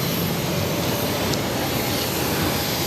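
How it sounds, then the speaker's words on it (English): A Hainan Airlines Boeing 787-9 Dreamliner takes off, heard as a steady, dense broadband jet roar that stays loud and even for the whole stretch, with no voices over it. "This is Hainan Airlines Flight 730 taking off to Seattle on the 787-9 Dreamliner"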